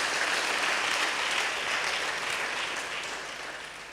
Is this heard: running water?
no